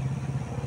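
A motorcycle engine runs nearby in a brief, steady low rumble with a faint irregular clatter, heard alone.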